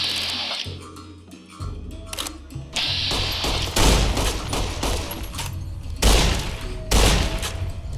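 Gunshots ring out in Fallout: New Vegas as several loud, sharp blasts in separate bursts, with quieter gaps and small clicks between them.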